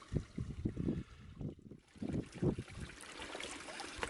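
Stream water trickles and gurgles close by through a backpacking water filter in wild Welsh hill country, an uneven bubbling patter that settles into a softer steady flow.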